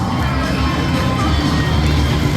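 A monster truck show crowd cheers and shouts continuously, a dense, loud wall of voices from many people filling the arena throughout.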